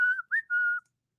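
A person whistles three short, clear notes, the tone shifting between them, close and alone with no talk.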